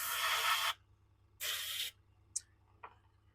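Airbrush with its needle removed blasting white paint while painting a model railway signal box: two loud, steady hissing bursts of spray about half a second each, followed by a couple of short, faint puffs, with no talking.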